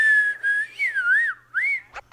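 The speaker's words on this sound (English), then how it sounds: "do you know I can whistle right here?" Someone whistling a short, wavering melodic phrase with gliding pitch, close and clear, ending in a brief rustle.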